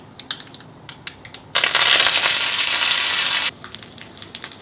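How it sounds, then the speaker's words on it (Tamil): Mustard seeds, chana dal and urad dal hit hot oil for pirandai chutney, bursting into a loud dense sizzle that holds for about two seconds, framed by scattered light clicks and taps. "எண்ணெய் போட்டுக்குவோம், கடுகு போட்டுக்குவோம், கடலைப்பருப்பு, உளுத்தம் பருப்பு போட்டுக்குவோம்."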